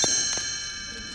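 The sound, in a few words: chimes ringing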